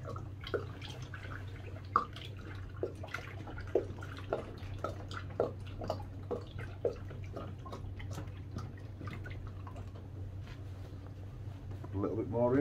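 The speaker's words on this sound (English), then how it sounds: "Hear it gurgling round." Coolant gurgles and drips inside a VW Crafter campervan cooling system while it is being topped up, with irregular bubbling plinks over a steady low hum, close and moderately quiet.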